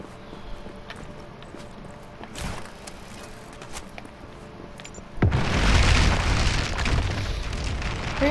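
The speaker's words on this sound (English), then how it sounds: "Just trying to destroy a bridge" Explosions tear apart a bridge in the video game Just Cause 3: a low rumble and scattered thuds, then a sudden loud blast that swells into a sustained roaring crash.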